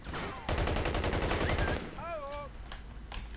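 Rapid gunfire bursts in the video game Battlefield Heroes, loud dense volleys for the first second and a half, then sparse distant shots beneath whistling, chirpy game effects.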